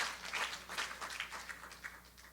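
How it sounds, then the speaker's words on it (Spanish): A church congregation breaks into brief applause, an uneven, fairly faint patter of clapping hands that rises and falls over about two seconds. "Denle un aplauso fuerte a nuestro Dios."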